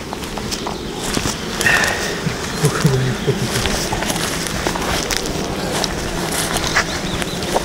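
Honey bees buzz around opened beehives at an apiary, a dense, steady hum close by with scattered footsteps and handling noises, and faint voices in the background.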